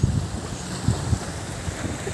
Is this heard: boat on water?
yes